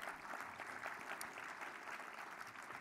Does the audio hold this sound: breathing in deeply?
no